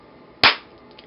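A single sharp hand clap picked up by a microphone in a quiet room, standing alone with a quick decay and nothing following.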